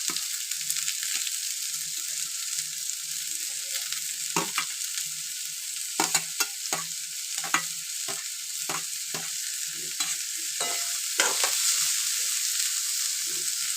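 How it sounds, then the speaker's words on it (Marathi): Curry leaves and onion frying in hot oil for a prawn masala, a steady sizzle with repeated scraping strokes of stirring, close and alone without talk. "तेल तापलंय आता मी कढीपत्ता टाकते आणि त्याच्यासोबत कांदा पण टाकते"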